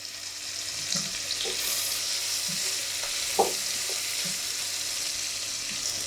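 Onions with salt cooking in a pan, a continuous soft sizzle with occasional light scrapes as they are stirred, no talking.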